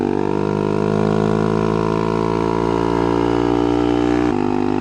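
A Honda Monkey Z125 motorcycle fitted with a Yoshimura exhaust runs close and loud, its engine holding a steady, throaty hum with a slight rise in pitch before dropping suddenly near the end.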